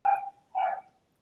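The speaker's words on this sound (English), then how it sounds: "Apologies for the puppy barking in the background." A puppy in a dog-friendly co-working space gives two short, sharp yapping barks in quick succession, fairly close and clear, with no talk over them.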